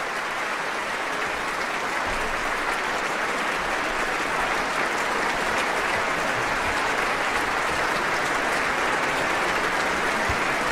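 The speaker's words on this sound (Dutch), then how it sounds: "Alexei Volodin het applaus in ontvangst neemt en ook applaudisseert voor het orkest." Sustained, dense applause from a concert hall audience after Chopin's Piano Concerto No. 1 in E minor, Op. 11, steady and full throughout with no voices rising above it.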